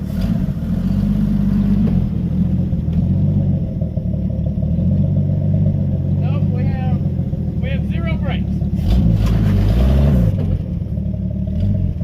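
A 1976 Ford Power House motorhome engine drones loudly and steadily while driving with no brakes, its low rumble rising and surging near the end as a person speaks over it.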